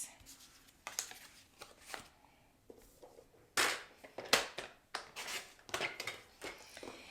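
Card stock being cut into small pieces for a pop-out flip fold card, heard as irregular crisp slicing and snipping bursts up close, some sharper and louder toward the end, with no talking.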